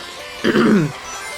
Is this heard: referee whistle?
no